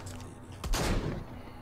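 Gunfire from a newly picked-up weapon in the VR zombie shooter Arizona Sunshine, a single loud burst around the middle with a short decaying tail over a low steady background.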